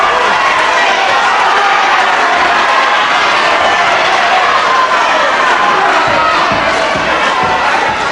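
A packed British wrestling hall crowd roaring and cheering through a semi-final bout, a dense, loud, unbroken wall of shouts and voices.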